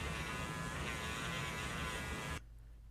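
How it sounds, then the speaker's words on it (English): A Dremel wheel polishes the inside of a wood and stainless steel ring with plastic scratch-free polish, giving a faint, steady high-pitched rotary whine and buzz that cuts off abruptly near the end, leaving a low hum. "We're using some plastic scratch-free polish and a Dremel wheel."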